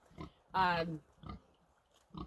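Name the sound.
pigs grunting in pen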